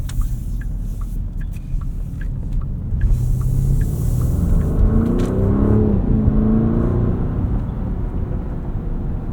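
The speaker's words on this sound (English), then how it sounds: "I love this 4-liter twin-turbo V8. It's so torquey, so smooth." A 2024 Porsche Cayenne S with a 4-liter twin-turbo V8 and 8-speed automatic drives at night on Pirelli winter tires, its steady engine rumble and road noise heard from inside the cabin, with a brief rising surge midway.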